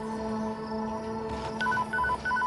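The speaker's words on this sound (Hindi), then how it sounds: "फोन आ गया भाई, फोन आ रहा है भाई" Telephone tones in a horror video game about kidnappers, a steady electronic drone followed by three short repeated ringing bursts near the end, clear and close with no talk over them.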